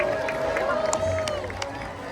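A crowd cheers and shouts in a noisy, reverberant space, a steady wash of voices with scattered whoops.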